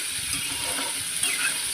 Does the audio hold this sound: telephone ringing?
no